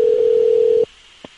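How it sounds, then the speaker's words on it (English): Telephone dial tone heard while calling someone back: a loud, steady single tone held for most of a second, then cut off, followed by a brief faint click. "Either way, we're calling him right back."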